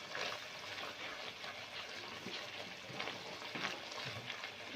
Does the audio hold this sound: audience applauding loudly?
no